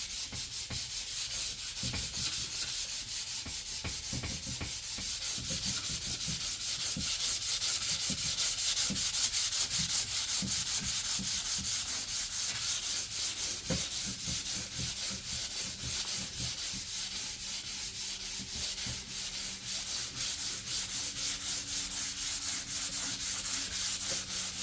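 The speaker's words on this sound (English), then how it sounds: "This is sandpaper. So I have to just lightly sand it." Folded sandpaper lightly sanding oak cabinet surfaces, a steady close-up rubbing and scraping that runs continuously with rhythmic back-and-forth strokes and no talking.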